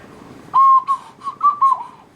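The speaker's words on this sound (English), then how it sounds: "Here is the ocarina." A few short, breathy whistle-like tones from an ocarina, a brief hooty melody of four or five notes, fairly close.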